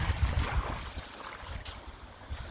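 Cold lake or shore waves wash and rumble steadily, with a low surging roll and windy hiss, heard alone outdoors for a couple of seconds.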